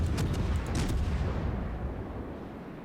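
Naval gunfire in World of Warships, a rapid burst of heavy booming shots in the first second, loud and close, followed by a rumbling decay that fades out.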